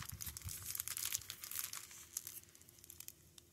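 A roll of grafting tape is picked and scratched at with fingernails, giving close, crinkly, crackling plastic sounds in quick irregular bursts that thin out toward the end.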